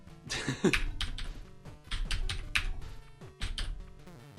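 Computer keyboard keys struck hard during a keyboard-controlled snake game: several loud, sharp clacks in uneven bursts, close and dry, with no talking over them.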